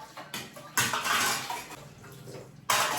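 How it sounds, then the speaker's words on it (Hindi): Dishes, pots and utensils clatter and clink while being washed in a kitchen sink, bursts of metallic knocking and scraping broken by short pauses, close and moderately quiet. "यहाँ पे जल्दी से मैं बर्तन वॉश करके सिंक वगैरह क्लीन कर लूँगी"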